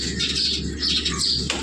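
A racing pigeon held in the hand beats its wings in short bursts of flapping, close and fairly loud, with brief pauses between flurries.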